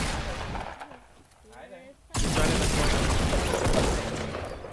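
Gunfire in a Fortnite Battle Royale squads match: a sustained, loud volley erupts abruptly midway and rolls on to the end, after a quieter stretch with brief voice sounds.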